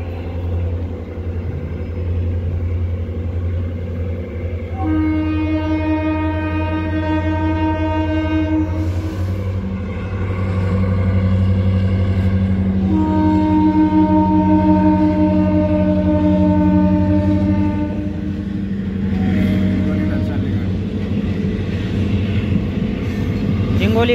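A local DEMU train headed toward Akola approaches with loud, repeated horn blasts, two long sustained honks over a steady rumble of rail and engine noise, heard close by with no speech.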